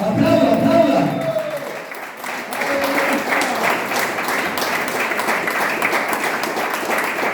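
Church congregation applauding together, a dense steady wash of clapping that carries on loudly throughout, with a preacher's voice heard over it at the start.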